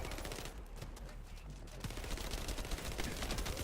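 Dense, continuous gunfire and explosions in the shooter The First Descendant fill a busy firefight, loud and cluttered with no clear gaps.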